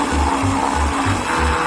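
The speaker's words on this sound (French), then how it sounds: "Je vais mixer le tout." A blender churns vanilla ice cream, butter and cheese with a loud, close motor whir that pulses in a steady rhythm, with no talking.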